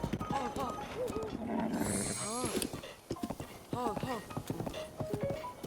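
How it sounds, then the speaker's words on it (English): Rhythmic clip-clop of horse hooves trotting in Zelda: Breath of the Wild, with a horse whinnying and a person talking over it, plus game chimes in the background. "Where are you going, horse?"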